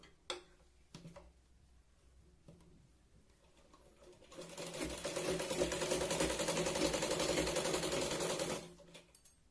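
A sewing machine stitches the lining of a katori blouse: a few sparse clicks first, then a loud, steady run of rapid stitching that holds for several seconds and stops abruptly.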